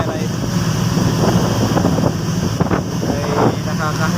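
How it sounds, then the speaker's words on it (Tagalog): Strong amihan monsoon wind buffeting a boat at sea, a constant loud roar of wind against the microphone with a low engine rumble and splashing water underneath, and a faint voice briefly audible. "Sana'y kumalma na ang amihan na ito."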